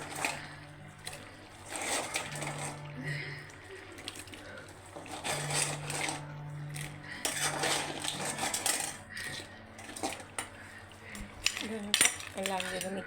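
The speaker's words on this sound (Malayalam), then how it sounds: "നമ്മളിനി ഞണ്ട് ഇതിലേക്ക് ഇടുകയാണ്" Crab pieces tumbling into a boiling crab curry pot, giving clinking, rattling knocks against the metal over a steady simmering hiss, with a few sharper clanks near the end.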